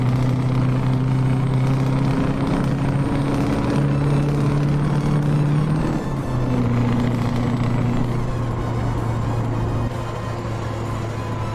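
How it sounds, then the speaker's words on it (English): Steady V8 truck engine drone from the Euro Truck Simulator game with the ProMods map, a loud continuous rumble holding a constant pitch that dips slightly midway, heard alone without talk. "it's got the extreme V8 sound as well."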